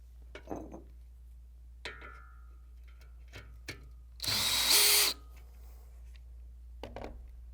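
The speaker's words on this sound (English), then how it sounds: "mount the top bracket to the post using the 3 self-drilling screws" A power drill drives self-drilling screws through a top bracket into a stair railing post, a single loud whirring burst of about a second amid scattered clicks and handling taps in a quiet room.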